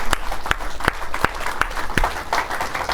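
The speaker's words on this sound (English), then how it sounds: "let's give the Lord a round of applause" A church congregation claps for the Lord after a prayer, sharp evenly spaced claps in a steady beat, close and fairly loud, with a softer background of scattered clapping.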